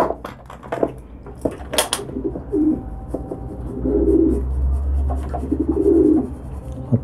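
Pigeons in a coop cooing in soft repeated low phrases, close by, with clinks of a dish or feed tin and handling noises between the calls.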